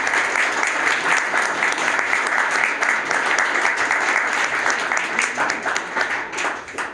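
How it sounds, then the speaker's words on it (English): Sustained, dense audience applause fills the room for a speaker at a fireside chat event, steady and full from start to finish. "Can we all give Dr. Langellier a round of applause?"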